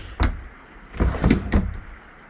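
Plywood drawers on European glides in a 2026 Odyssey SE 31FF motorhome are pulled open, giving a quick sliding thump followed by two more rolling slides with light knocks, close by and without talk.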